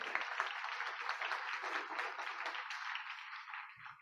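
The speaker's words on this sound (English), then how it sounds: "How about a round of applause for them?" An audience gives a board of directors a round of applause at an opening address, with dense, sustained clapping that fades slightly toward the end.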